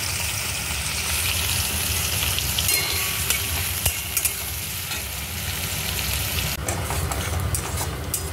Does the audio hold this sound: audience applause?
no